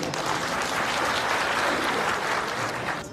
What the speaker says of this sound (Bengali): সে বাংলাদেশের অক্সিজেন প্রবাসীদের জন্য জোরে একটা হাততালি।